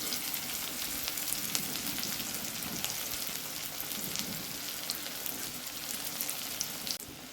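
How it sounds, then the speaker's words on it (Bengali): Chopped onion and tomato fry in a pan, a dense, steady sizzle with soft scraping as the mix is stirred, constant and close throughout with no voices. "পেঁয়াজ কুচি, তার সাথে টমেটো কুচি, ভালোভাবে নেড়ে চেড়ে"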